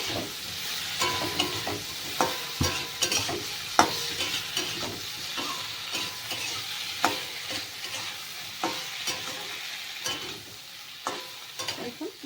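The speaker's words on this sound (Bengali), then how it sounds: "মশলার সাথে ভালো করে কষিয়ে নিয়েছি" Cauliflower and chopped tomato are stir-fried with spices in a pan for a Bengali cauliflower and lentil dish: a continuous soft sizzle broken by repeated scraping and clattering stirring strokes at close range, with no talking.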